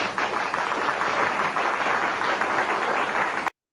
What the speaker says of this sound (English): Let's give him a big round of applause, please.